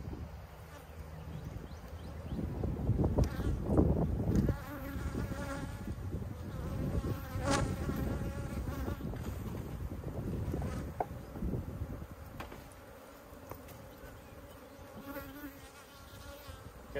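Honeybees buzz steadily around an open hive while queens are being raised, a close, continuous drone that rises and falls a little and carries on alone without any talk.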